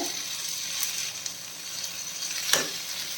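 Ginger garlic paste sizzles as it fries in a pan with sautéed onions for a breadfruit curry, giving a steady close hiss with a couple of brief stirring scrapes and no talking.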